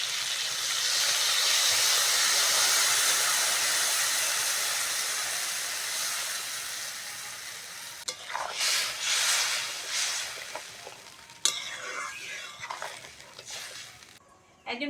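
Water hits a pan of frying vegetables and spices for a Bengali curry, setting off a loud steam hiss that swells and slowly fades. Stirring scrapes and clatter follow, close by.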